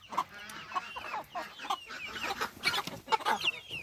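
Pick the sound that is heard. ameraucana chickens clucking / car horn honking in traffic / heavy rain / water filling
ameraucana chickens clucking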